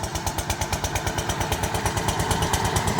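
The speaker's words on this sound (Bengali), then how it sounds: "মেশিন আরও জোরে চলছে" A ferry boat's motor engine chugs loudly and steadily nearby at Bochadanga ferry ghat, with fast, regular thumping pulses and no talking.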